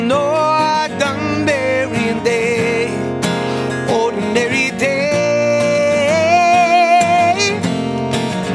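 Home recording of acoustic guitar with a singing voice, dense strummed chords and a melodic vocal line running continuously throughout, full and upfront.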